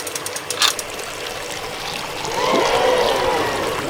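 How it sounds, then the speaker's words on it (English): Water flows from a LEGO pump into a small pool in a toy water park, a steady trickling and pouring stream that swells louder in the second half, with no talking. "Hold on, the water's coming right now."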